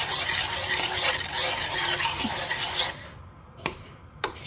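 Rabri, thick sweetened milk, is stirred in a pan with a steady scraping, swishing rhythm for several seconds. The stirring then quiets, leaving two sharp, isolated clicks of the spoon against the pan.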